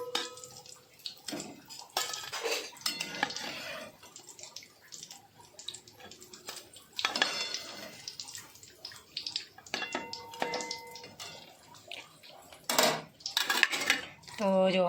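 Golden-brown fried masala Maggi balls are lifted out of hot oil into a vessel, with irregular metal clinks and scrapes of utensils against pans in scattered bursts and pauses.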